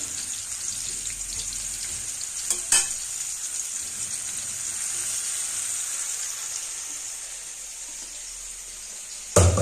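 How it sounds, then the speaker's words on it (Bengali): Eggplant slices frying in oil, a continuous close hiss and sizzle with a couple of sharp clatters from utensils, no speech. "বেগুন ভাজা,"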